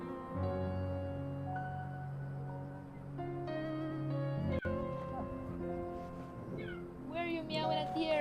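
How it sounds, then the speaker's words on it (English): A pet cat meows repeatedly indoors, several drawn-out tonal cries that rise and fall, heard close and fairly clear over a game soundtrack and a faint background hum. "Where are you meowing at the air?"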